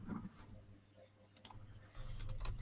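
Keys clatter on a computer keyboard in a few quick, faint bursts of clicking, separated by quiet stretches with a low background hum.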